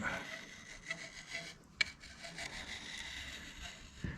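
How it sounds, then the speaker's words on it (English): A hand scraper working a metal machine part to fit its mating piece, giving soft continuous rubbing strokes with one sharper scrape near the middle, close and fairly quiet. "So I'm going to scrape it to fit my mating part."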